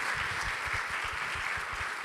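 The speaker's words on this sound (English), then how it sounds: "You're already applauding," An audience at a town hall event applauds steadily, a dense wash of clapping that holds at an even level for the whole two seconds, with no voices cutting through.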